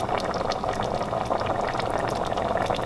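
A pot of paleo chili bubbling at a boil, a dense, steady crackle of popping bubbles close by and fairly loud, unbroken throughout with no talking.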